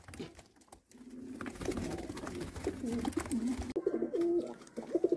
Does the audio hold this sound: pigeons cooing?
yes